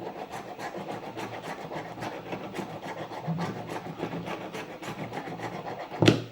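Close rhythmic scraping as a car cup holder surface is roughened for glue adhesion, with repeated short rasping strokes at a steady pace and a louder knock just before the end.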